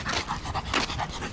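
A Gultair dog pants steadily up close, quick rhythmic breaths repeating through the moment with no talk over them.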